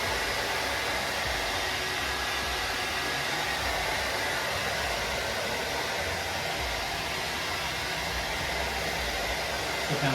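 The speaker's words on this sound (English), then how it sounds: "just your conventional hair dryer. And we're just going to heat up the tape a little bit." A conventional hair dryer blows steadily at close range while heating the grip tape on a golf club, a loud, constant whooshing hiss that runs the whole time with no talking.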